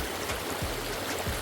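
A very big stream flows steadily at a campsite near Waihi, a close, continuous rushing of water with no talk over it.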